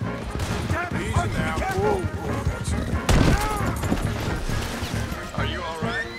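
Gunfire in the Red Dead Redemption 2 video game sounds as sharp shots and a heavy burst among overlapping character voices and busy game noise.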